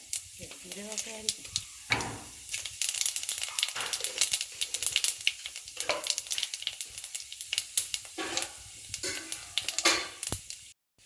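Whole spices pop and crackle sharply in hot oil, a busy sizzle of irregular snaps, with a person speaking briefly over it.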